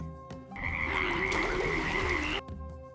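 Frogs croak in a well in an animated Sanskrit fable about a frog king, a loud, continuous croaking chorus lasting about two seconds, close and unaccompanied by talk.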